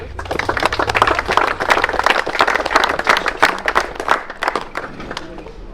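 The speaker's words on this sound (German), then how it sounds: "Ein riesen Applaus für Racing Arnie" A crowd at a turbo-kart race in Wohlen applauds a racing team, lively overlapping claps for several seconds, fairly close and loud.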